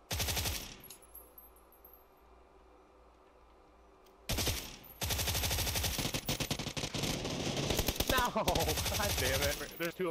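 Rapid automatic gunfire in PUBG, a short burst at the start, then a long dense stretch of repeated shots with a few brief pauses, loud and close, with some voice underneath.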